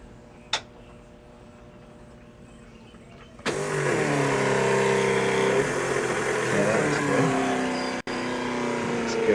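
A race boat engine cranks over and catches, settling into a loud steady roar that runs on without letup, with a brief sharp knock just before the start.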